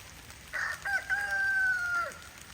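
A rooster on a small farm calls to its hens, giving a single drawn-out, rising then falling crow-like call with a few short clucks before it, heard close and clear over quiet outdoor background.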